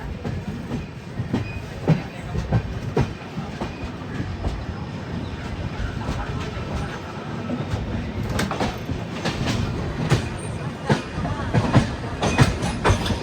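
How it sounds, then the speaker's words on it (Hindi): Visakhapatnam Express pulling out of Kalyan Junction railway station, heard from on board with rhythmic clickety-clack of wheels over rail joints, rumbling carriages and occasional squeals, with faint talk in the background. "Departing Kalyan junction railway station."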